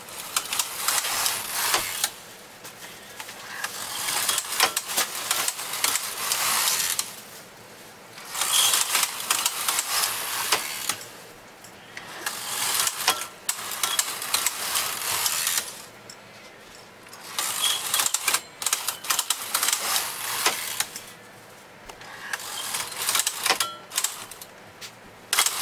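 Silver electronic knitting machine with lace carriage being pushed back and forth across the bed, producing loud mechanical clattering passes separated by short pauses, repeating steadily with no talking.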